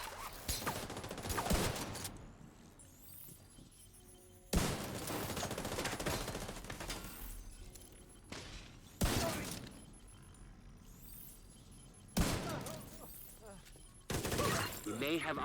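Gunfire in Tom Clancy's The Division 2: several loud bursts of automatic shots crack out in separate volleys a few seconds apart, with quieter gaps of game ambience between them.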